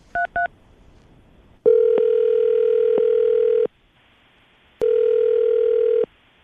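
Telephone call audio: two quick dialing beeps, then a steady electronic ringback tone sounding twice in long, even bursts separated by a silent gap, clear and close.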